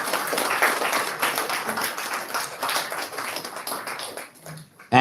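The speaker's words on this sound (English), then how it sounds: "I'm sure you can put your hands together and give a round of applause" Applause from an audience at a formal ceremony in Sri Lanka, welcoming the chief guest: a steady patter of clapping for about four and a half seconds that thins out near the end, with a few faint voices underneath.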